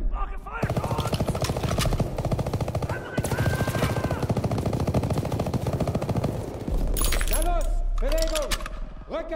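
Sustained automatic gunfire in the Call of Duty WWII video game, a dense continuous rattle amid battle noise, with shouted voices and metallic clinks breaking through toward the end.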